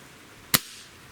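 Crosman TR77 air rifle firing a single pellet shot, one sharp loud crack close by amid quiet, with a brief fading tail.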